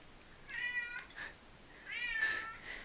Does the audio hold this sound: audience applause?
no